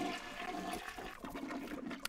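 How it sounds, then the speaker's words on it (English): A porta potty toilet flushes in the video game No More Heroes, a steady watery rush that runs for about two seconds at an even level. "I like how it still makes the flushing noise."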